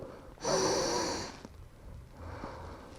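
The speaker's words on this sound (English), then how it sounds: "Take deep breath in and out here." A single deep breath during a yoga stretch, a loud, close inhale or exhale lasting about a second, followed by a fainter breath amid quiet room tone.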